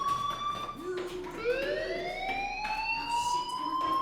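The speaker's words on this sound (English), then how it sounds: "do you hear that fire alarm? That means you should be outside." A fire alarm in the Life is Strange video game rings out with a steady electronic tone and rising siren-like sweeps, held at a fairly loud, constant level throughout with no talk over it.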